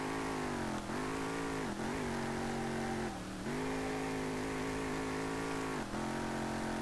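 A Lexus SC300 engine in Street Legal Racing Redline revs steadily and loudly, holding a high drone with brief dips as the throttle lifts and returns.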